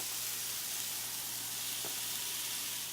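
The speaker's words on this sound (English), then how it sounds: "Finally, we fold in the rice." Rice being folded into a hot pan for fried rice, giving a steady, close sizzling hiss that holds evenly throughout, with a soft scrape partway through and no voices.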